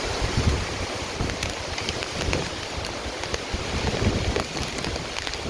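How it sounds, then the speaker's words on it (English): A strong wind gust roars during Hurricane Ian in Orlando, Florida, as steady broadband rushing with buffeting against the microphone and surges in intensity, loud and continuous, with no talking. "We've got a huge gust."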